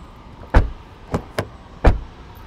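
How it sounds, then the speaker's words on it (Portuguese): Car doors on a 2024 Volkswagen Tiguan thud shut four times, each a short solid slam with a low-end punch, spaced irregularly over a quiet background. "Fecho de porta."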